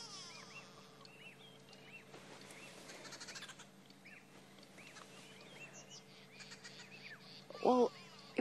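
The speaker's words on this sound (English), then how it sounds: "our birds are so upset and always, as always, first into the fray are the drongos" Drongos and other birds give agitated alarm calls in the bush at sunrise on a Sabi Sand safari, a busy tangle of harsh chatters and whistles at moderate distance, with a louder burst near the end.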